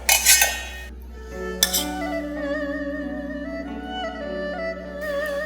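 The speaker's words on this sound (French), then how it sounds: "Alors, je dresse les assiettes." Plates being set out for a shrimp dish, with cutlery and dishes clinking in two brief bright bursts near the start, over a steady tonal background.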